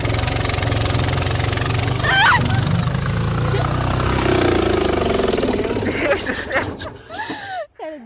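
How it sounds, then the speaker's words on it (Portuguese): A boat's outboard motor runs steadily on a drought-shrunken Amazon river, a loud continuous low drone that fades near the end while voices and a few honking bird-like calls sound over it. "Pra funcionar o motor aqui, ó."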